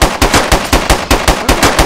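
Rapid automatic gunfire in the video game DayZ, loud close bursts of repeated shots at a fast, even rhythm with no pauses.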